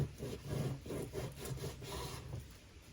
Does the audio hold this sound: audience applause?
no